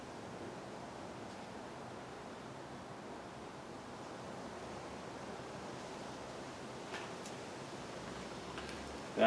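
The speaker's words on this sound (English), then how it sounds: "It's a little bit windy out here today" Steady outdoor wind blowing during a cook-out test of a folding firebox stove, a continuous broadband rush at moderate level that holds evenly for the whole stretch with no talk.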